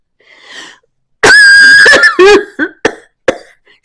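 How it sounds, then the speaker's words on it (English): A person coughs several times up close: a long harsh wheezing cough followed by a few shorter, tapering coughs with brief breaths between. "And I'm home and now I can cough."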